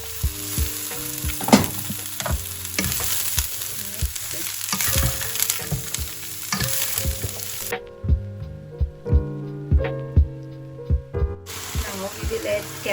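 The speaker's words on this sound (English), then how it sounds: "Now add carrots and bok choy, chikori or cabbage." Ginger, carrots and bok choy stir-fried in a hot wok for lo mein, with steady sizzling and repeated scraping clatters of a utensil against the pan, loud and close, with background music underneath.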